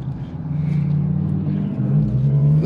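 Infiniti Q50 sedan cruising through city streets, a steady low engine hum and road rumble running continuously and fairly loud, with slight swells as it accelerates.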